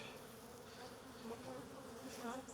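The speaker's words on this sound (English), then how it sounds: "when they're queenless, bees can be quite grumpy" Honey bees in a queenless colony being readied for queen rearing during after-dark grafting, humming in a continuous, agitated drone close by with slight rises in pitch, and no voices.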